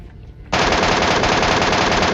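In PUBG, an MK14 rifle opens up after a brief quiet moment, firing a loud, rapid, continuous burst of shots close to the listener.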